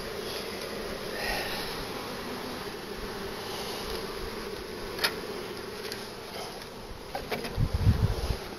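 Honeybees drone in a continuous loud buzz while hive frames are pulled during a hive split, with a few faint knocks and handling bumps near the end.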